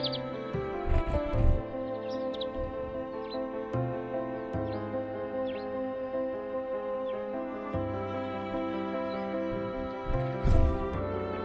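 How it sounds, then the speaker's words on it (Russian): Greenfinches trilling near a winter bird feeder, faint repeated chirps and trills over a steady low background hum, fairly distant. "С приближением весны все громче раздаются трели зеленушек"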